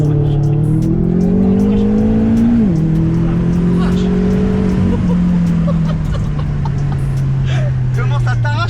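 A modified car drives on a wet surface, its loud engine close by with a steady droning note that rises and dips as the wheels spin, and people talk over it.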